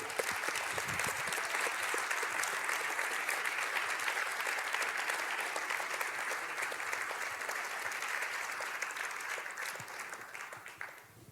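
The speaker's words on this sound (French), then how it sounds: "J'aimerais que vous leur fassiez un tonnerre d'applaudissements" An audience gives entrepreneurs a big round of applause at a marketing event, a full, steady wave of clapping that slowly thins and fades out near the end.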